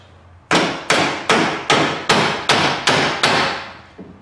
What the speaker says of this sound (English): grab a rubber mallet hammer.